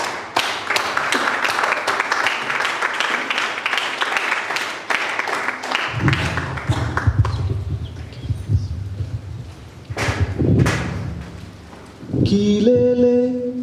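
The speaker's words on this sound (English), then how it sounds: "With a thunderous round of applause," Audience at a Toastmasters club's 100th meeting gives a loud burst of clapping for about six seconds, which then drops away into quieter room sounds, scattered claps and a tonal sound near the end.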